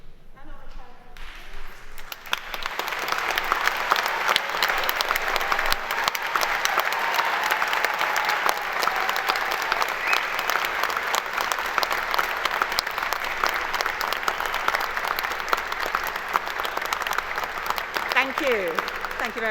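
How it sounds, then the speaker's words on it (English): A graduation ceremony audience applauding to thank family and friends, with steady broad clapping from a large crowd after a brief spoken lead-in. It holds evenly for the rest of the clip. "in a round of applause join me to thank your family and friends today"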